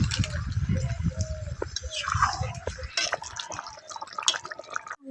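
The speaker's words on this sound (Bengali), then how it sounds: "এর মধ্যে এবার আমি দিয়ে দেবো অল্প করে একটু জল" Water poured into a pot of cooking chicken and potatoes, a splashy, trickling pour with low bubbling, heard close under a speaking voice for the first few seconds.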